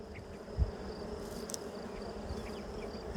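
Honey bees swarm thickly over a hive frame during an inspection, giving a steady, dense buzz close by with one brief thump early on, and no talking.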